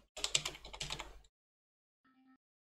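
A name is typed on a computer keyboard in a quick burst of close, crisp key clicks lasting about a second, then quiet with a faint short tone afterward.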